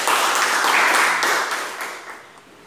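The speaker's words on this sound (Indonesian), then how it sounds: "kita beri tepuk tangan untuk Mas Taufik" Classmates clap for a student after a class presentation, a close, fairly loud patter of hands that gradually thins and fades toward the end.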